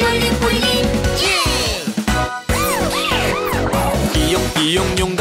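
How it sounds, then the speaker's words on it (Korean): A police car siren sounds inside a cheerful children's song, its wailing up-and-down sweeps loud and repeated over bright musical backing. "경찰차 출동"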